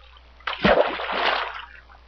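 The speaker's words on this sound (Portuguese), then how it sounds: "Deixa eu jogar essa água aqui que eu tenho fora também." Water splashes in the Minecraft video game as a block of water is placed, giving a short sloshing burst that swells and fades over about a second, alone with no talk.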